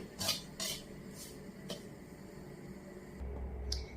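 A spoon or spatula scrapes and clinks against a kadhai as semolina is stirred while it roasts. The contacts come in a few irregular strokes over a low steady background.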